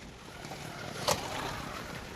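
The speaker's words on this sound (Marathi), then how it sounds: "पाऊस आणि वारा इतका चालू झाला इकडे," Wind and rain outdoors near a sugar factory in Latur, a steady low blustery rush with a soft broadband hiss throughout and one brief louder gust or buffet midway, no talking.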